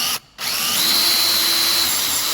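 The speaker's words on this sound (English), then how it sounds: "on the top one, you're going to drill right in the middle" A power drill bores a bolt hole straight through the middle of a wooden picnic table top board, running loud and steady with a whining tone after a brief stop near the start.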